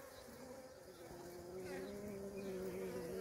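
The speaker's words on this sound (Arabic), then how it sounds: "يبين لكم كمية النحل السارح" Honeybees buzzing around a hive at night, a steady dense hum that swells slightly louder partway through, with no talking.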